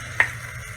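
Ground beef frying with vegetables in a pan for an Italian beef ragu, a soft steady sizzle with one sharp utensil scrape or click as the mixture is stirred.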